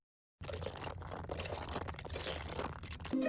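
Dry cracked ground crunches underfoot in a steady stream of crisp, crackling breaks, close and fairly loud, starting after a brief silence and running without pause.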